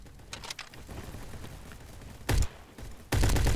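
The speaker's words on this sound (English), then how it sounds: "there's barely any recoil when you're shooting, so when you shoot at something, you're usually gonna get it" Gunfire in the Roblox video game: sustained rattling shots underneath, then two sharp, loud bursts of firing close up, the second continuing to the end.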